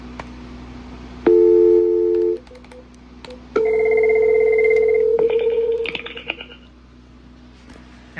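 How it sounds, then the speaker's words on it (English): Call-progress tones from a Cisco 8831 conference phone: a steady tone for about a second, a pause, then a longer two-pitch tone and a burst of quick beeps, close and clear. "So let's get a call going between this phone and this phone."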